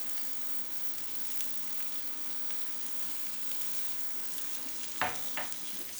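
Chopped onion, carrot, celery and garlic, seasoned with salt and pepper, sauté in a pot for a Greek soup. A steady, soft sizzle runs throughout, and a couple of quick utensil taps come near the end.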